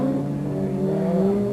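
A Ford RS200 rallycross car thrown sideways through a bend at Croft circuit in 1987, its engine a loud steady drone at high revs, close and unbroken.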